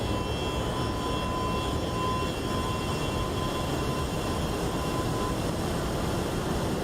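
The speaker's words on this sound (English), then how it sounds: "Here's a flyby for you guys, kind of in slow motion." MD-11 jet airliner passing by in the flight simulator X-Plane 12, a steady, loud broadband jet roar with a faint whine, unchanging throughout.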